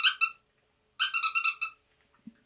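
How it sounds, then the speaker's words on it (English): A squeaky dog toy squeaks sharply in quick bursts: two short squeaks, a pause, then a rapid run of about six squeaks, followed by silence and a faint low sound. "I'm going to use a squeaky toy to try to get her attention."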